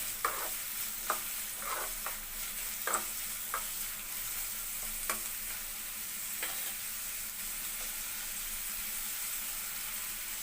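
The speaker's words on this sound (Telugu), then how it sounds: "ఇప్పుడు కరివేపాకు వేస్తాను." Curry leaves and onions fry in a pan for dahi vada, a steady close sizzle with a spatula scraping and stirring in irregular taps, and no voices.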